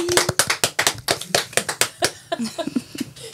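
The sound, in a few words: gentle applause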